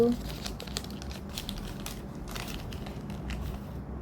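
Close crinkling and ripping of paper in quick irregular bursts, with voices talking over the rustling.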